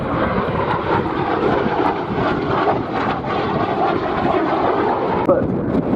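A North American F-86 Sabre jet fighter roaring past at an airshow, a loud continuous broadband jet rush filling the whole stretch, with a voice speaking over it.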